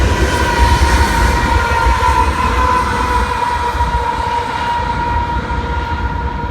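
A loaded BNSF coal train heading southbound rolls past close by, a loud continuous rumble of heavy wagons on rails with a sustained horn tone running through the whole stretch, no voices.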